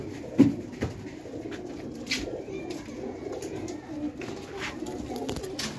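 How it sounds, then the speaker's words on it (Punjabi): High flyer pigeons in Lahore coo softly and repeatedly at close range, low throaty calls over a faint outdoor background with occasional brief rustles. "ਹੁਣ ਇਹ ਕਬੂਤਰ ਆਏ ਨੇ"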